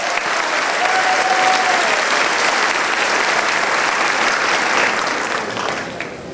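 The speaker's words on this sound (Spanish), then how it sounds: "Pido un fuerte aplauso." A large audience at the opening session of a peasant reserve zones gathering breaks into loud, sustained applause, a dense even roar of clapping that tapers slightly at the end.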